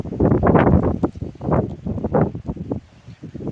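Gusty wind roars through a bank of trees, a steady broadband rush that swells and eases in surges, close and loud against the microphone, with no voices.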